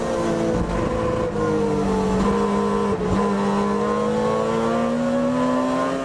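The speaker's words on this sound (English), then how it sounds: "He revs the car all the way out, grabs another gear." A Mazda touring race car in Irish ITCC racing at the Leinster Trophy revs hard through its range and snaps into another gear, the engine note dipping briefly and then climbing again, loud and close, steady throughout with no talk.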